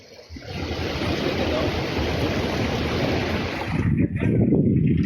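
The flooded Taperoá river near Cabaceiras, swollen water rushing over a low flooded crossing, roaring loud, close and continuous, with a surge of heavier turbulence toward the end.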